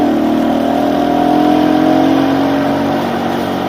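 Motorcycle engine revving while riding on a trail, a loud close mid-pitched roar with rising and then settling tones, steady and unbroken throughout with no talk.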